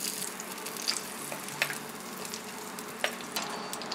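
Green chili slit and dropped into simmering oil with a little butter for shahi paneer, giving a steady soft sizzle and frying crackle with a few small clicks and stirring taps.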